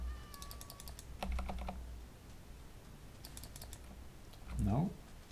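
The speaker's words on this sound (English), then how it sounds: "Here we have a cat." A Minecraft 1.16 cat gives one short, quiet meow near the end, after bursts of soft computer-keyboard typing.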